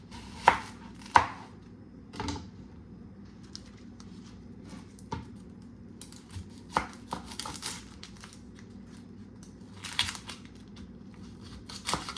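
Crawfish are cut on a board in a home kitchen, heard as a handful of sharp, close knife chops and cracks spaced irregularly over a quiet background, with soft handling noises between them.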